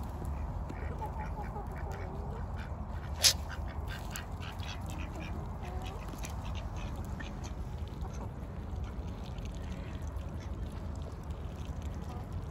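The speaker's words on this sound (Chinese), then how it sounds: "回家喂鸡，喂这些小动物们" Chickens and other small farm animals being fed at home outdoors in the sun, with a steady mix of close clucking and quacking calls over a low background rumble and one sharp click partway through.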